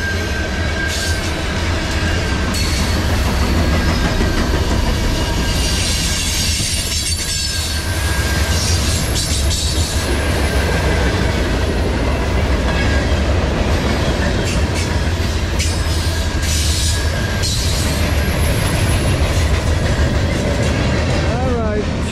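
A Norfolk Southern manifest freight led by a freshly rebuilt AC44C6M locomotive rumbles past close by at dawn, a loud continuous roar of wheels and cars with metallic squeals and clatter throughout.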